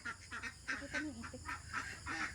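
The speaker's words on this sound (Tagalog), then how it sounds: "Yan ang nangingitlog naming itik." Domestic egg-laying ducks on a rural Philippine farm give a rapid run of nasal honking quacks, close and steady over a low background hum.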